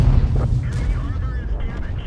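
Heavy tank gun of the Progetto 66 firing in World of Tanks: one deep, booming discharge with a rumbling low tail that fades over about two seconds.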